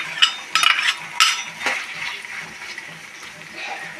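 Thinly sliced onions sauté in a clay pot, soft sizzling under a few sharp metallic stirring scrapes and clinks near the start.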